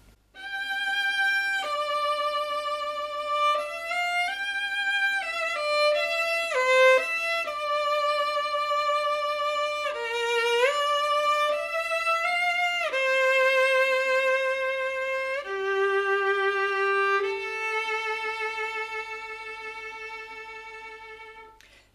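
Solo violin played with a fuller, more solid tone, a continuous bowed melody of sustained and gliding notes with a clear harmonic-rich sound, close and steady throughout with no talking.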